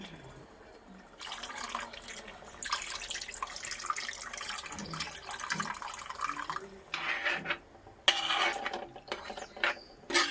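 Kudampuli tamarind water is poured into a crab curry, making a splashing, trickling pour that comes in several bursts and swells, near and moderately loud, with no voices.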